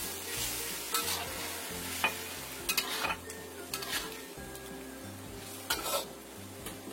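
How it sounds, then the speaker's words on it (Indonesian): Tofu and egg cook in simmering oyster sauce in a pan over medium-low heat, giving a soft continuous sizzle broken by repeated close scrapes and taps of a utensil stirring against the pan. "Setelah mendidih, kita masukkan tahu beserta telurnya."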